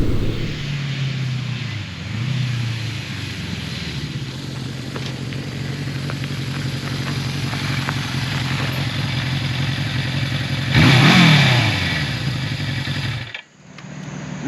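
A Suzuki GS650G 650cc classic motorcycle rides along with a steady engine drone, rising and falling with throttle changes and swelling loudly before cutting off abruptly near the end.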